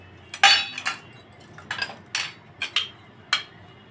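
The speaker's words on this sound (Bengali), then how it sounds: "বাটিগুলিতে তেল দিয়ে ব্রাশ করে দিব" Steel bowls being brushed with oil before baking soft bread: a string of bright metallic clinks and light scrapes, about eight separate taps at irregular spacing, close and clear with no talking.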